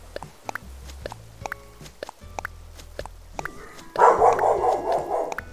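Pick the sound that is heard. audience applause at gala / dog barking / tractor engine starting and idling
dog barking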